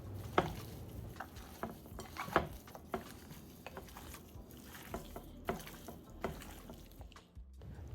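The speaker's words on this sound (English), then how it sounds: "Now we're just going to mix everything together." Raw goat meat being mixed by hand with garlic paste and green seasoning, giving soft, close squelching and wet patting sounds in an irregular rhythm, fairly quiet.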